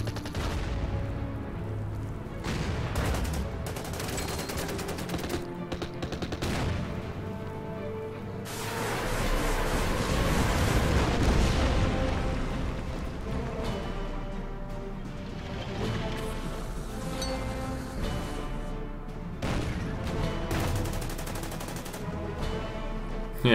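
Sustained battlefield fire from the Order of Battle strategy game, with artillery and Katyusha rockets: dense rattling gunfire and rolling booms continue steadily for over twenty seconds, swelling louder midway.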